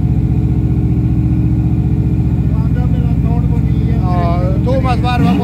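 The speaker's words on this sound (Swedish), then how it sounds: "Marco, ge han lite gas." Car engine in a garage, idling roughly and then revving with a rising whine near the end, loud and close, with voices talking over it.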